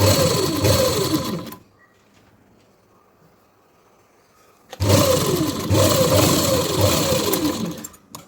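A sewing machine stitches a saree blouse sleeve onto the body. The close, loud rhythmic whirring runs for about a second and a half, stops for three quiet seconds, then starts again and continues to the end.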